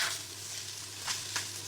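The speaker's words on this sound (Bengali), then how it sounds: "আর এখন একটু ধনিয়া পাতা দেওয়ার পরে আমি একটু নাড়াচাড়া করে নিব ভাজিটা।" Vegetable fry with fresh coriander leaves being stirred in a pan, a steady close sizzle with a few soft scraping strokes of the spoon near the end.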